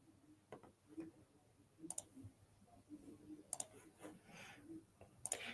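A computer mouse clicks sharply and sparsely on a desk during cloud server setup, with single and double clicks spread across a quiet room background and no talking.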